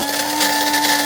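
An electric coffee grinder whirring loudly and steadily close by as it grinds Starbucks Verona coffee beans, a continuous high motor whine with no talk.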